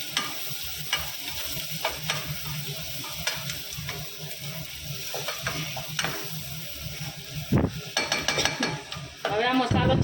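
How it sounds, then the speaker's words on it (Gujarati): Tomatoes and salt are stirred into a pan of frying spiced oil for shahi palak. A steady, close sizzle runs throughout, with repeated scraping and clinking of a spoon against the pan. "ટામેટા નાખીને આપણે જરૂર મુજબ મીઠું નાખીશું। એને પણ આપણે સારી રીતે હલાવી લઈશું।"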